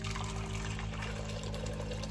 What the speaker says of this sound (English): Just pour my boiling water.